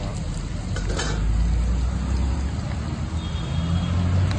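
Food sautéing in a pan with ginger, cooked outdoors at a roadside, gives a steady low sizzle and stirring under constant traffic rumble from passing road vehicles, with no clear speech.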